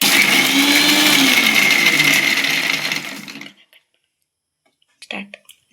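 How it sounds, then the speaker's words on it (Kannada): A kitchen mixer grinder whirs loudly as it grinds green chillies, garlic, ginger, cumin and coriander leaves, a steady motor roar for about three seconds before stopping, followed by a brief clatter. "ಇದಿಷ್ಟನ್ನು ಮಿಕ್ಸಿಗೆ ಹಾಕಬೇಕು."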